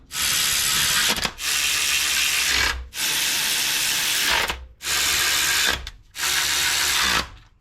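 A powered ratchet or impact tool runs in five long bursts with brief pauses between them, loud and close, while a brace and cover are bolted back onto a Honda Civic oil pan during a budget turbo build.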